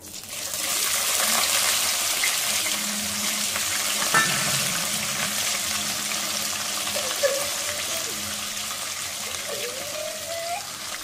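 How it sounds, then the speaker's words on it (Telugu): Fish, washed several times, sizzles steadily in hot oil in a home kitchen pan, a continuous broad crackling hiss at moderate level with a few faint clinks and stirring sounds, no talking. "4-5 సార్లు కడిగి నూనెలో వేస్తున్నాం"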